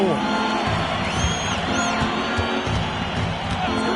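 A basketball video game crowd reacts to a dunk with a steady roar and scattered cheers, spread across a continuous bed of arena noise that holds at an even level throughout.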